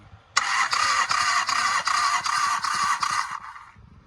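A motorcycle engine is cranked over with its spark plug grounded out, a rapid rhythmic chugging whir that starts abruptly and runs for about three seconds before stopping, close and fairly loud with no voices.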